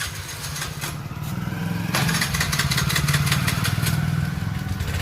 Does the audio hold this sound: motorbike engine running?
yes